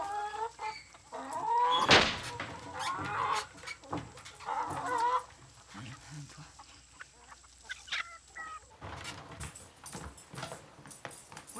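Hens in a coop cluck and squawk nearby, with one sharp loud call followed by scattered softer clucks and rustling.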